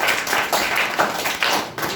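Audience clapping for a speaker at a school public speaking competition, a short burst of dense, close applause with rapid uneven hand claps.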